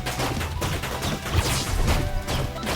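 Rapid turret fire in the retro-styled game Pixel Ripped 1978, a loud, busy stream of shots and crashing impacts without pause, with no talk.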